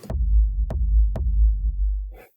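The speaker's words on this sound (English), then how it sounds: "So we have this rumble kick." Three deep, booming rumble kick drum hits, a sine wave with reverb, with a sharp click on each attack and a long sustained low rumble beneath, ending with a brief burst of noise.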